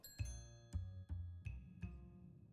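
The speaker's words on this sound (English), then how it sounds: "Bell." A bell chiming in an Agatha Christie train mystery video game, five resonant strikes spaced evenly apart, each ringing on with a sustained, fairly clear tone.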